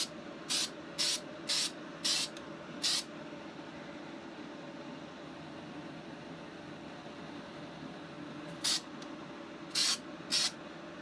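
Spray paint going onto a toy gun part in short bursts, five quick hisses in a row, a long pause over a faint fan-like hum, then three more bursts, fairly close.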